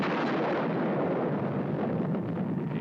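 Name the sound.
French atomic bomb test explosion in Pacific lagoon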